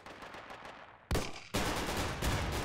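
Explosive HE rounds fired in the shooter game Insurgency, a few sharp bursts of gunfire with booming impacts, moderately loud and without talk.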